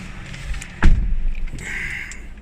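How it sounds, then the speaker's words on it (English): A single solid thud of an Alfa Romeo 156 car door shutting, followed by faint rustling and a brief soft chime. "close the door"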